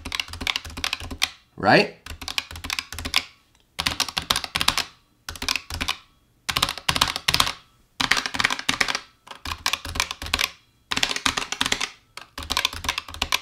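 Rapid typing bursts on a Razer Huntsman TE keyboard, close and clattery, in short runs separated by brief gaps, with a person speaking briefly early on.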